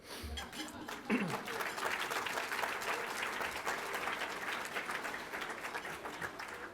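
Audience applause at a dinner opening speech, a thick wash of clapping that swells after a brief pause and holds steady, fairly quiet and distant.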